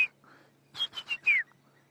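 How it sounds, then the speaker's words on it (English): A brown-hooded kingfisher calls in South African bush woodland at sunrise, a quick run of four or five sharp whistled notes, fairly close and clear over a quiet background. "We can hear a woodland, a brown-hooded kingfisher going,"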